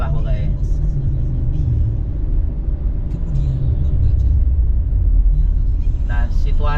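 Heavy traffic of trucks, containers and motorcycles streams along the Pantura road between Cirebon and Brebes, a steady close road rumble with passing engines and a horn-like burst near the end.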